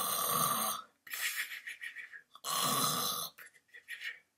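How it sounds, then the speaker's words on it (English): A person snores in loud rasping bursts, two long drawn inhales separated by shorter choppy exhalations, close and alone. "start snoring."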